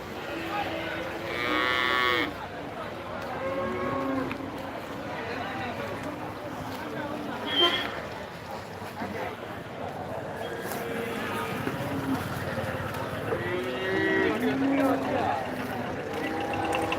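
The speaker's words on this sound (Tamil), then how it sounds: "சரி வாங்க பசுக்களை பார்க்கலாம். முன்னொரு டைம் பசு சந்தை." Cattle lowing at a busy livestock market, several moos rising over a crowded background of people talking, some calls close and loud, others farther off, spread across the whole stretch.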